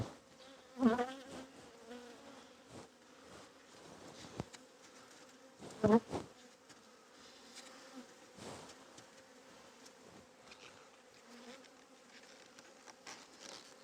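Honeybees hum steadily up close on a hive frame, a constant buzzing drone with a few louder knocks and bumps now and then.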